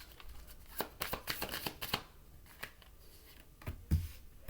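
Tarot cards being shuffled and drawn, with a few quick, crisp riffling bursts and then scattered soft slaps and slides of single cards, faint and close, no talk.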